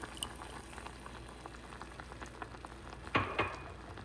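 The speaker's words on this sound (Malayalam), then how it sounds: "ഇത് കറക്റ്റുള്ള തേങ്ങാപ്പാൽ ഒഴിക്കണം കേട്ടോ" Mango curry simmering in a pot after coconut milk is added, a soft steady bubbling texture at low level with a brief louder clatter of stirring or pouring near the end.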